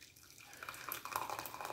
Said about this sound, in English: So let's pour some hot water in here.